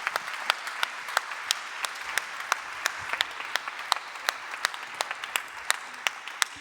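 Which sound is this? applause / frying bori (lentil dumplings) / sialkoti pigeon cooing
applause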